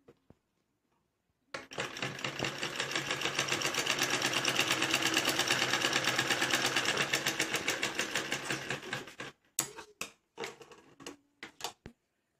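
A sewing machine stitches fabric for a baby frock and bow, running in one loud, steady, fast-rattling burst of about eight seconds, then stopping with a few scattered clicks and handling knocks.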